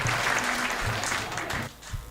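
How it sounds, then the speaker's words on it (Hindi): Loud, dense applause from a seated audience at a Hindi poetry and comedy gathering, sustained for about two seconds and then tapering off. "पूरा सदन दोनों हाथ उठाएं एक बार जोरदार तालियों से"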